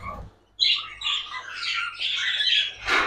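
Loud, continuous squawking from a Show Jumbo chick, harsh and close, running nearly unbroken for about three seconds after a short quiet start.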